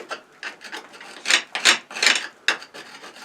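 A screwdriver scrapes old mortar from the joints of an old stone house wall, a series of short, gritty rasping strokes close by, some sharper and louder, with no talking.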